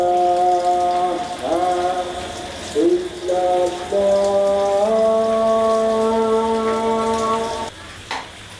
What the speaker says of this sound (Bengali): বৃষ্টিটা এখন একটু কমছে।